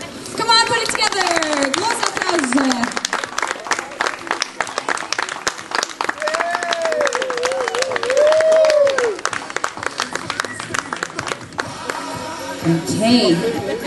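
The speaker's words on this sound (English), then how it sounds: "I would like to give a big round of applause and welcome our first group" Audience applause for a children's dance group at an evening show in Menorca, with continuous loud clapping and crowd noise and occasional whistles. A voice speaks briefly over it near the end.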